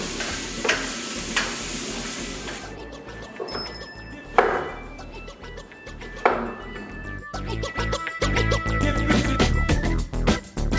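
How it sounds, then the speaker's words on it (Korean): Chopped tomato, dried thyme and rosemary are stirred in a frying pan, with soft sizzling, utensil scrapes and occasional bright clinks against the metal, close and moderately loud, growing busier toward the end. "잘게 썬 토마토, 말린 백리향, 말린 로즈마리를 프라이팬에 넣고 저어서 잘 섞습니다"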